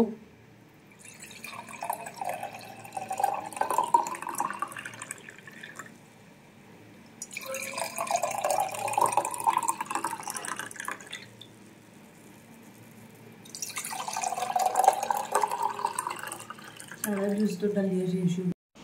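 Juice is poured into a container in three separate bursts of splashing, filling liquid, each several seconds long with quiet gaps between, heard close.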